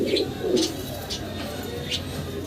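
A male pigeon coos repeatedly in low, throaty rolls, close by, over a steady background hum with faint chirps.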